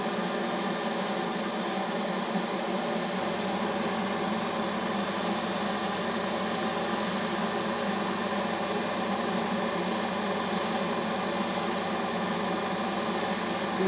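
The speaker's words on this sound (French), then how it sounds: "j'ai repris mon aéro, celui-là" An airbrush sprays stain inside a wooden case, producing a loud, constant hissing spray with brief dips where the flow pauses, over a steady compressor hum.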